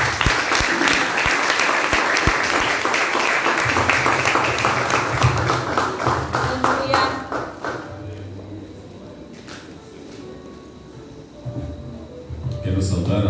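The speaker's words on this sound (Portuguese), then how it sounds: "Aplauda o Senhor Jesus Cristo." Church congregation applauding during a Portuguese-language morning service, dense steady clapping that fills the first half, then thins out and fades, with a voice speaking over the quieter tail.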